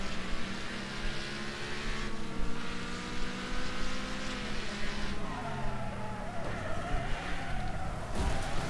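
A race car in the video game Wreckfest skids around a corner, tires squealing in long sliding tones over a loud, steady engine roar, close and continuous.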